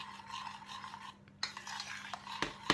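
A spoon stirs homemade pizza sauce in a pot with soft, quiet scraping and rubbing strokes, broken by a few sharper clinks against the pot's side.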